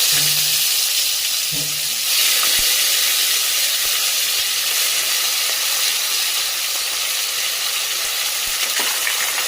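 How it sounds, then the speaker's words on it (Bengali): Chopped onions hit hot oil already crackling with bay leaves, dried red chillies and whole garam masala, giving a loud, steady sizzle and hiss close by, with a brief clatter at the start and no talking. "ভালো করে ফোড়ন হয়ে গেছে, এখন দিয়ে দেবো পেঁয়াজ কুচি"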